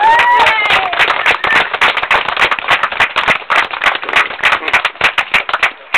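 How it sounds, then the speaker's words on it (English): Small crowd clapping at a Two-Tone commemorative plaque event, sharp distinct claps close by, with brief whoops early on, the clapping thinning into scattered individual claps toward the end. "let's have a round of applause for these guys"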